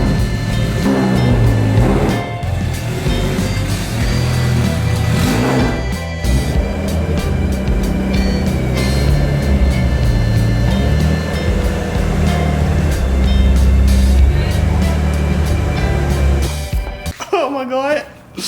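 A Nissan Skyline driven onto a garage lift: a loud engine idles and revs, rising and falling close by, while a person talks over it, before the engine cuts off near the end.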